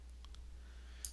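A single sharp computer mouse click sounds near the end, with a couple of fainter clicks just before it, while using FCS Express 6 flow cytometry software in a quiet room with a steady low hum.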